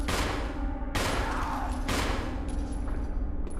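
Gunfire in the Wii version of Resident Evil Remake rings out in three loud, sustained bursts of rapid shots, each separated by a brief gap.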